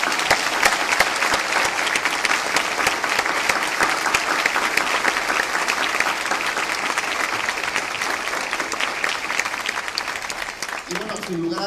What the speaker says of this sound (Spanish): les voy a pedir a todos que me acompañen a reconocerle con un fuerte y merecido aplauso.